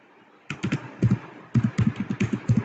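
Computer keys clack in quick bursts as field names are typed, close and distinct, with short pauses between clusters of keystrokes.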